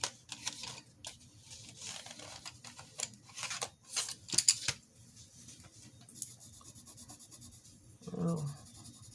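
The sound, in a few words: Crazy Art neon colored pencils drawing on paper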